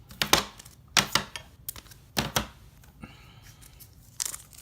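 Sports trading cards shuffled and swapped by hand, a run of crisp crinkling rustles and flicks in short bursts, close and fairly quiet with no voices.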